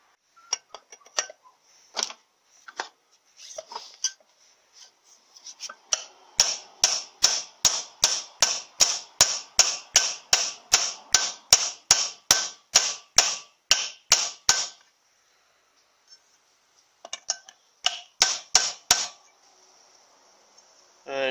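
A new bush is hammered into a cast iron Powerglide transmission case, sharp metallic taps that start sparse, then run as a long rapid regular series, then return as a short final burst.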